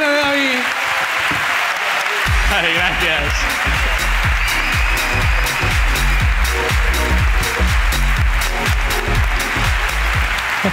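Loud audience applause at a live comedy podcast recording, with dense clapping and crowd noise building after a brief spoken line and continuing steadily while voices talk over it.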